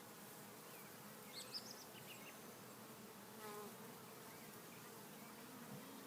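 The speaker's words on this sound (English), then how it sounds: "Healthy, docile colony. I'm not wearing a screen or gloves or anything. They're just flying by, no problem." Honey bees from a healthy, docile colony buzz steadily around their hive outdoors, a constant soft drone with a few individual bees passing closer by, no one talking.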